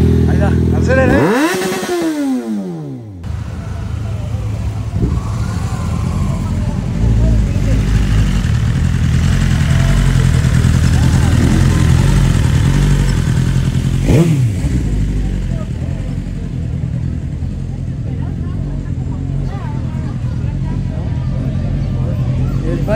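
Superbike motorcycles race past at a San Juan round, an engine howling up through gears with a sharp Doppler sweep by, then sustained roaring and another pass, while people shout excitedly over the noise.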